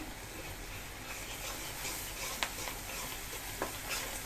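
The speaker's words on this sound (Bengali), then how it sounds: "এখন দিয়ে দিবে মাছের ডিম" Fish roe fries in a pan with chopped onion and green chilies, a soft, fairly faint sizzle with scraping stirs and a couple of sharp ticks, steady and without speech.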